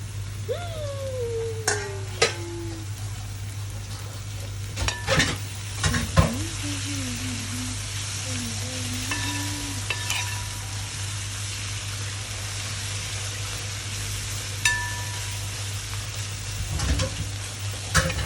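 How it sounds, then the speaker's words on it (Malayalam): A pan of food fries with a steady, quiet sizzle while a spoon or spatula stirs it, giving repeated scraping knocks over a constant low hum, with no talking. "നമ്മളിങ്ങനെ ഇളക്കി ഇളക്കി കൊടുക്കണം"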